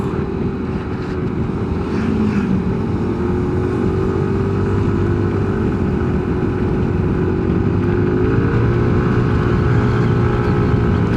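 Yamaha NMAX Techmax 155 scooter pulling hard in Y-shift sport mode, a loud, steady engine drone that climbs gradually in pitch, heard close up with heavy rumble throughout.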